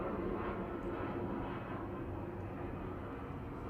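An airplane passes overhead as a low, steady rumbling drone, moderately distant and continuous throughout with no talk over it.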